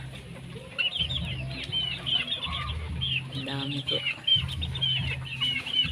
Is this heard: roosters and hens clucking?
yes